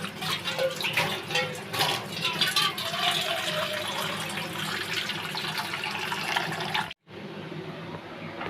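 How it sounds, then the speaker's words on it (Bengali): Water poured into a pot of lentils for cooking, a steady loud splashing stream that runs for several seconds, cuts off abruptly, then faintly resumes. "এটাতে আমি জল দেবো এখন"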